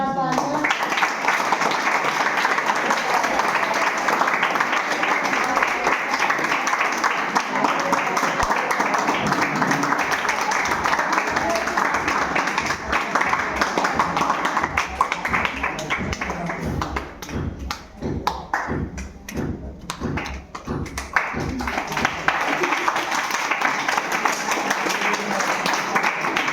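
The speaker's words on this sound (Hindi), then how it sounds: "एक बार जोरदार तालियां।" Audience at a Teachers Day event claps throughout, a dense steady wash of applause that thins into separate rhythmic claps near the end, with a voice speaking over it.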